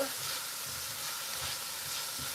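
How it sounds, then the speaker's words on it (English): Vegetables sizzling in a pot for chicken and pumpkin soup, a steady frying hiss with soft scraping and shuffling as they are stirred, close and moderately quiet. "we're going to give this a nice stir"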